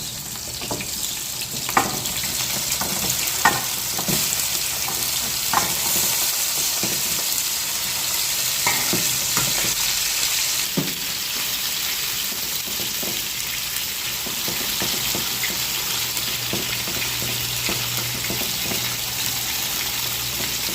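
Chicken thighs fry alongside onion in a pan, giving a steady, close sizzle that runs throughout, broken by a few sharp clicks and spatters.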